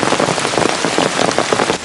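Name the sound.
heavy rain falling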